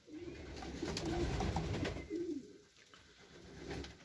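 Ornamental pigeons in a loft give soft, low cooing calls that swell and repeat at close range, faint against a quiet background, with no talking.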